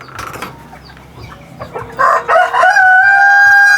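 Free-range chickens in a farm pen, with Darag among the birds, give a few soft clucks, then a loud rooster crow rises and holds its note at close range, alone without talk.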